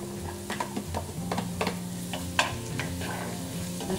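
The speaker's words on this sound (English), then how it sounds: "I'm just going to fry this for a couple of minutes until the onion starts to soften." Chopped onion fries in hot oil in a pan, giving a close, steady sizzle with frequent bright scraping and stirring clicks from a utensil.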